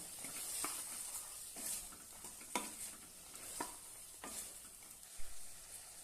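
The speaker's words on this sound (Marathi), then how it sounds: "आता आपण यामध्ये हरभरा घालूया छानपैकी परतून घेऊया" Green chickpeas sautéing in a pan, a soft steady sizzle broken by repeated scraping stirs at roughly one-second intervals, faint and close.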